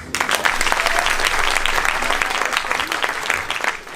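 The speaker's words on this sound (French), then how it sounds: "on peut l'applaudir pour ça." A student audience at an IESEG Lille eloquence contest bursts into loud, continuous applause, many hands clapping in a dense, even wash that holds steady from start to finish.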